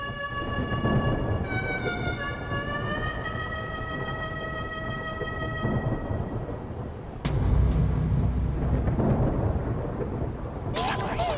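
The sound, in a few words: rain falling with thunder outside at night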